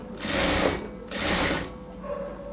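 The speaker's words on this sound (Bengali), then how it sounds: "তারপরে হচ্ছে ঘুরে ঘুরে সেলাইটা করে নেব" A sewing machine stitches piping around a garment neckline, its close, loud whirring running in two long bursts with a softer pass after, and no talk.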